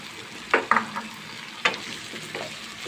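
Onion, ginger and garlic paste fries in a pan with water added, giving a low sizzle under a few sharp, close stirring scrapes and clacks.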